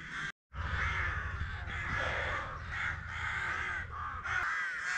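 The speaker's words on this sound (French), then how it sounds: "Est-ce que les corbeaux arrêtent de croasser pendant la nuit?" Several crows caw loudly and repeatedly, harsh overlapping calls coming in close succession with a brief silence near the start.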